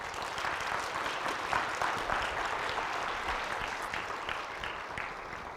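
An audience at a county fair housing symposium applauds in a steady wash of clapping that stays even and fairly full, then eases slightly toward the end, with no speech over it.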